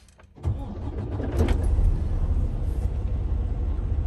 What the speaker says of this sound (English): I am going to do a safe start.